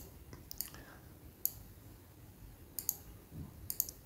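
Sharp, quiet mouse clicks in Excel, about four of them spaced irregularly over a faint background hum, with no one speaking.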